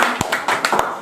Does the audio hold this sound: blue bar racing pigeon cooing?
no